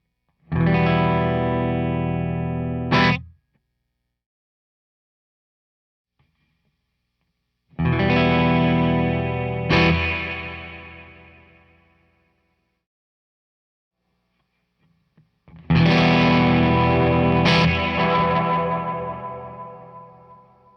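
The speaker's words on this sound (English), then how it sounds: "the spring reverb in it is one of the more realistic digital spring reverbs that I've heard" An electric guitar through a Summer School Electronics Spring Break digital spring reverb pedal plays three strummed chords, each ringing out with a splashy, drippy reverb tail before fading to silence.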